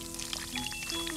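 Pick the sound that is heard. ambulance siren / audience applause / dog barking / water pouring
water pouring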